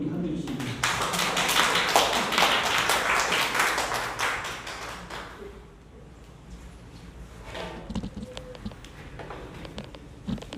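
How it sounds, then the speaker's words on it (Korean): Audience applause at a youth academy lecture in Korea, loud dense clapping for the first five seconds, then fading to scattered claps under low murmuring and talk. "여러분 박수를 좀 이렇게 한드리겠습니다"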